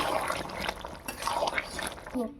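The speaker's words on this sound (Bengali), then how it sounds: "পরিমাণ মতো জল দিয়ে দিলাম।" Water is poured into a cooking paneer dish, a close, gurgling splashy trickle running continuously for a couple of seconds before tapering off, with no words spoken.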